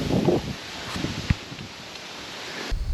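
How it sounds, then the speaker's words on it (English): Wind rushing steadily through Kentucky woods toward a deer bedding area, a brief close rush of noise with a few faint rustles and no voices. "the wind is blowing straight towards the bedding area"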